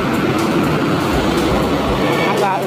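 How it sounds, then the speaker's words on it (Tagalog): Steady rumbling rail noise inside a moving MRT metro car bound for Guadalupe, continuous and loud, with faint voices mixed into the hum. "Sumakay na ulit tayo ng MRT"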